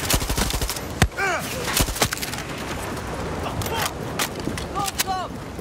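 Automatic turret machine gun firing in Far Cry 6 gameplay, with rapid bursts of gunshots, sharp single cracks and scattered explosive hits amid combat effects, partly under voices.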